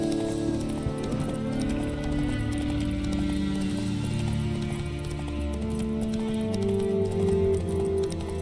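Hooves clatter in a fast, continuous galloping rhythm as the horse Roach runs in The Witcher 3: Wild Hunt, close and steady throughout over a layer of game music and ambience.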